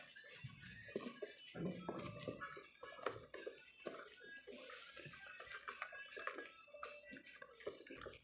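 Caustic soda lye solution being stirred in a container for laundry bar soap, a continuous wet sloshing and swirling with small splashes and knocks, close and fairly quiet throughout, no voice.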